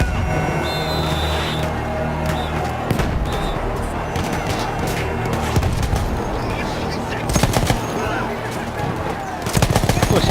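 Rapid machine-gun bursts and scattered rifle shots in a Battlefield 1 battle, loud and nearly continuous with explosions mixed in, while a player talks over the gunfire.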